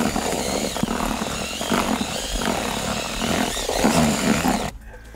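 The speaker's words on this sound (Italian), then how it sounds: "Per la bagnatura è importante l'utilizzo del trapano in modo da mettere uniformemente tutta l'acqua nel composto." Electric drill with a mixing paddle churning fishing groundbait as water is worked in, a loud, steady motor whine with a churning texture running almost continuously before cutting off near the end.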